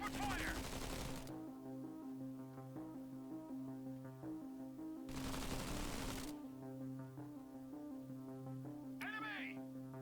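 Gunfire from militant units in the strategy game Zephon, two bursts of rapid crackling shots over a sustained musical drone, a further short sound near the end.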